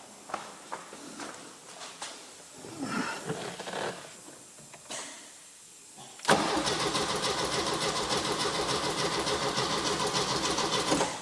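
A 1973 VW Fastback with a suspected fuel pump fault is worked on: soft clicks and handling noises come first, then the starter abruptly cranks the engine in a loud, steady, rhythmic churn that never catches.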